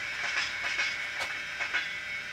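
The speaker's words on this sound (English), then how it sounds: "A goods train going past." Digital sound of a goods train passing, played from a Fleischmann PKP Cargo Vectron model locomotive: a steady hissing rumble with faint rhythmic clacks, continuous and alone.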